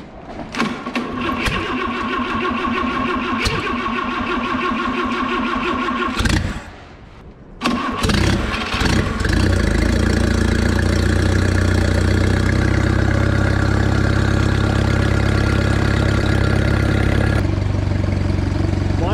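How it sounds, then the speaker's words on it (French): A 1987 Jeep engine on a first start attempt with choke cranks and sputters, falls briefly quiet, then catches and settles into a loud, steady, rumbling idle. "première tentative de démarrage"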